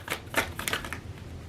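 Tarot cards being shuffled and drawn during a reading, giving a quiet run of soft papery riffles and flicks in several short bursts, close by with no talking.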